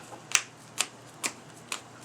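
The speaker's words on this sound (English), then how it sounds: "let me just power shuffle real quick" Trading cards being power shuffled by hand, heard as four quiet, crisp riffles spaced evenly about half a second apart, close up with no talking.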